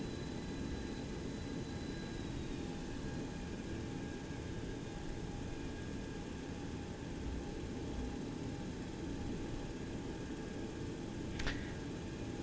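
A Boeing 727-200 Advanced taxis in a flight simulator game, its engines giving a steady, even drone with a thin whining tone on top and one brief click near the end.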